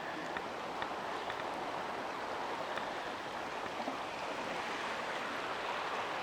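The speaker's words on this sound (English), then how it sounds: "The river came up a little bit. It's really moving along too." A swollen river runs fast after a storm, a steady broadband rush of flowing water heard close by with no voices, continuous and even throughout.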